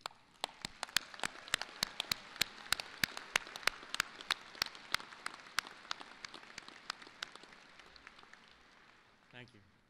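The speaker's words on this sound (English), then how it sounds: "Let's do a round of applause and then you can be seated." Sparse, distinct claps ring out at a university fall commencement ceremony, a scattered rhythm of individual hand claps over a faint room murmur that tapers off near the end.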